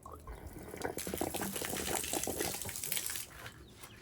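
Water drains out of an RV water heater after the pressure is relieved, a continuous splashing gush that runs steadily and close by, then eases toward the end.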